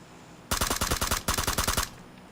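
Bursts of automatic gunfire from hip firing at training dummies in PUBG's training mode on Xbox One, loud and close: two rapid strings of evenly spaced shots split by a brief pause, with no talking.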